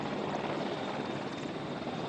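A helicopter carrying the president heard as a steady, loud, dense rotor and engine roar, continuous and unbroken with no voices.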